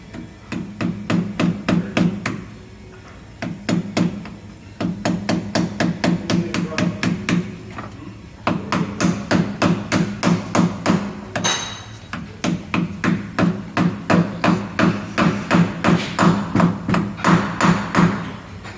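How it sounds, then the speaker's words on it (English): Repeated hammer blows driving balance weights onto a wheel rim, close and loud, in steady rhythmic runs with short pauses between groups of strikes, no talking. "Now that both weights are hammered on"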